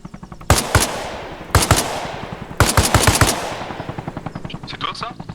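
Three rapid bursts of automatic gunfire in the video game Arma Reforger, loud and close, each trailing off, followed by a lighter patter of shots and a faint high whine.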